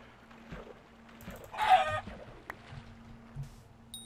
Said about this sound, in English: Ooh, 2 more chickens over here.